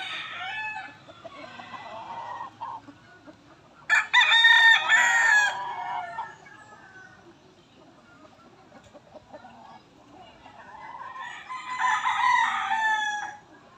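A young gamecock stag, fitted with a wing band and kept on conditioning feed, crows loudly at close range twice, with soft clucking between the calls.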